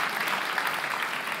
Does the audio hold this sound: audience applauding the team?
yes